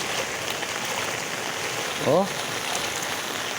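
Rain falls steadily outdoors beside a fishpond where bangus and tilapia are kept, a soft continuous hiss of drops filling the background while a short voiced exclamation rises briefly in the middle.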